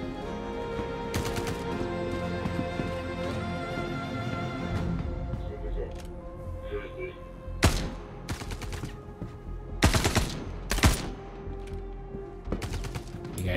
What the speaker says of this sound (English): We're shooting at that poor bastard.